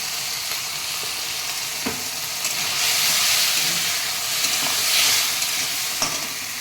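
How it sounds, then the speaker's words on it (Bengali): Spices with coriander powder, salt and turmeric fry in a hot pan, a close sizzling hiss that swells twice with stirring scrapes and clinks now and then, no speech. "মশলাটাকে ভালো করে কষিয়ে নিয়েছি।"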